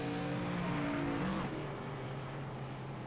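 Race cars in iRacing during an ARCA Series NASCAR-style event, engines droning steadily under broad noise as a car zips by on the low side, with a rising pitch sweep near the middle.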